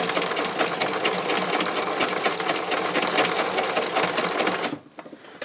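A sewing machine doing free machine embroidery runs loud and steady with a rapid, even stitching chatter for nearly five seconds, then stops abruptly, leaving a few faint clicks and no talking.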